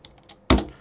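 A few light computer keyboard taps, then one sharp, louder keystroke as the Enter key is pressed, close and dry with no voices.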